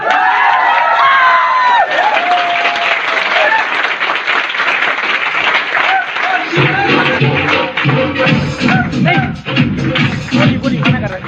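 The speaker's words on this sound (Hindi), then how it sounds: "एक बार खड़े होकर जोरदार तालियों का महोत्सव कीजिएगा" Standing audience at a Hindi motivational seminar bursts into loud, sustained applause with cheering and shouts, a dense wall of clapping that stays strong throughout, joined by a low musical swell in the second half.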